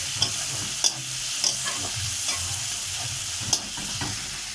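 Spices sauté in a pan for a snail and potato curry: a continuous sizzle broken by regular scraping stir strokes about every half second, close and clear.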